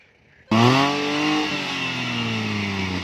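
A car engine roars to life and revs hard, holding a loud, steady whine as it speeds off in a street race between a Scorpio SUV and a modified Maruti K10.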